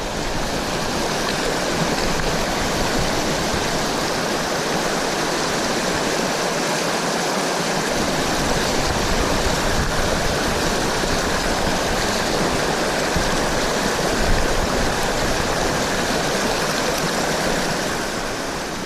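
A river rushing through a canyon in Zion National Park, heard as a loud, steady broadband roar of flowing water that continues unbroken with no talking.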